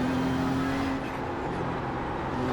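In the iRacing sim, LMP2 class race cars close in during an IMSA series race, their engines a steady, fairly quiet droning whir with a sustained tonal hum and no talking.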